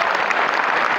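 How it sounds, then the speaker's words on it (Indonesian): Dense, steady applause from a large audience of boarding-school students at a motivational talk, filling the whole second without a pause. "Tepuk tangan untuk antum semua hari ini."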